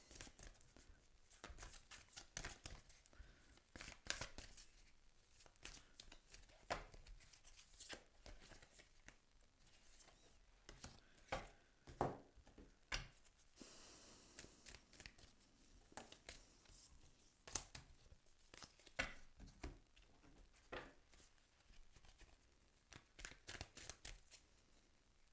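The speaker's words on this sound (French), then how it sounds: "Je mélange pour les taureaux." Oracle cards shuffled by hand, producing a quiet, continuous run of soft riffling slaps and papery taps in an irregular rhythm, close and alone.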